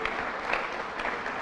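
An audience of students at a school Swahili arts event breaks into applause, a short, lively run of many hands clapping with a few louder claps cutting through.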